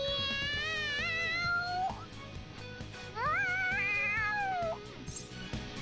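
A cat meows in the video game Persona 5 Royal, two drawn-out rising and falling calls with a pause between them, loud and close over a soft game background.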